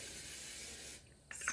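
A can of hair product sprays in a quick short burst near the head to set baby hairs, a close bright hiss that stops abruptly and is followed by faint handling noise.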